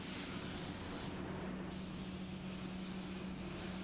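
A spray gun applies Standox clearcoat lacquer to a car panel with a continuous close hiss of atomised spray, steady and unbroken, with no talking.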